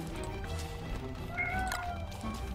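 A cat meows briefly in the Don't Starve video game, rising over a constant bed of game ambience and music, moderately loud and close.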